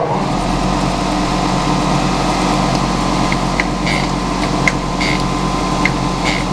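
A steady, loud machine whir runs without a break, with faint high scraping ticks now and then, as a meat grinder blade is sharpened on a grinding wheel.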